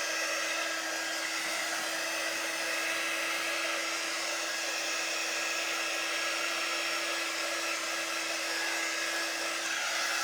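A hair dryer blows steadily over a freshly painted sign, a constant whooshing hum with a steady tone, moderately close and uninterrupted for the whole stretch.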